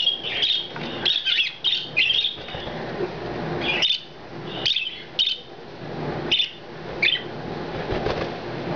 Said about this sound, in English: Birds everywhere. I can't even keep up with them.